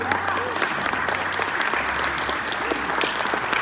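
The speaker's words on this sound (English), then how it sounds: "give them a round of applause for that" An audience at a panel event on diversity in gaming applauds, giving a dense, steady wash of clapping that fills the room close and loud throughout without letting up.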